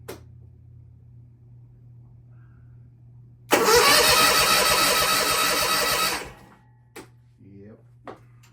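A Kawasaki FR730V engine on a 2020 Bad Boy riding mower, which has a smoking problem, is cranked without choke for about three seconds, a loud close churning starter grind over a low background hum, then falls silent with a few clunks afterward.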